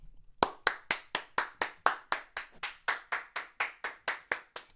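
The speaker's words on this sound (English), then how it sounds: "I'm going to clap." One person clapping alone, near and crisp, about twenty sharp claps in a steady, even rhythm against a silent background, during a morning talk show.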